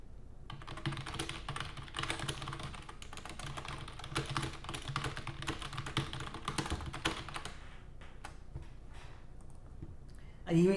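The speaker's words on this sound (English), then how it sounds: "And you hear me bang on the keyboard" Rapid, forceful typing on a computer keyboard, a dense run of close clicking keystrokes that thins into scattered taps near the end, with faint speech in the background.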